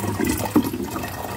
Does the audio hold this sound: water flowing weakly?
yes